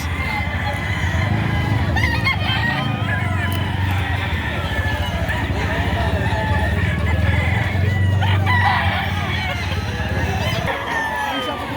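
A bulik rooster crows amid the steady din of a busy chicken market in Padre Garcia, Batangas, with other fowl clucking and people talking continuously around it.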